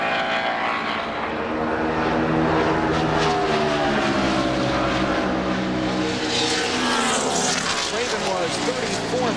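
Ricky Craven's NASCAR stock car on a warm-up lap at Darlington during 2001 Southern 500 pole qualifying, a loud continuous engine roar with shifting pitch as the car passes, with announcer commentary underneath.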